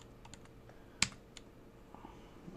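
Typing on a computer keyboard: a handful of quiet, scattered key clicks with one sharper, louder tap in the middle, close by in a quiet room.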